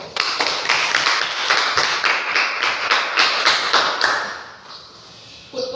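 Classroom students clap for a presenting group, a fast, dense patter of many hands close by that runs for about four seconds, then fades to quiet room tone.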